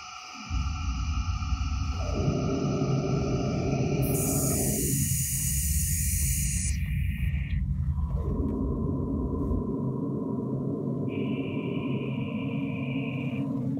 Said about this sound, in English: You can also draw or sculpt that white noise.